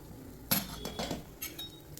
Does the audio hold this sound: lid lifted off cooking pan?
yes